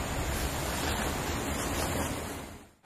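A forest river rushes steadily, a loud broad wash of flowing water filling the whole moment before briefly dropping off at the end.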